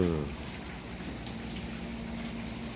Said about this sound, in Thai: ฝนตกแล้วนะ